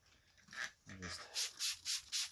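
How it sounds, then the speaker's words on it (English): A buffer scrapes across a car headlight during restoration, making four quick, evenly spaced rasping strokes near the end, close and fairly loud, after a softer stretch of rubbing sounds. "If you start to hear a little noise, I don't know if you hear that on film, but there's a little scraping noise."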